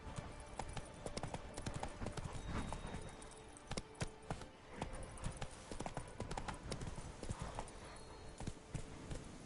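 Roach, Geralt's horse in The Witcher 3: Blood and Wine, gallops with rapid, steady clip-clop hoofbeats throughout, close and fairly loud, over a busy game soundscape.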